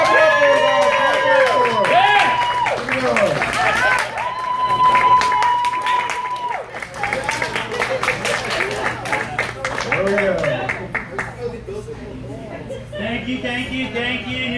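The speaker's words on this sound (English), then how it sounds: "Clap it up for him." A comedy club crowd applauds and cheers as a comedian's guest is brought on stage, steady clapping under a loud voice speaking over it, with the applause thinning toward the end.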